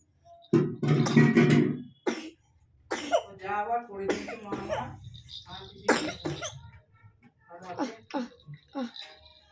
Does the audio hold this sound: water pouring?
no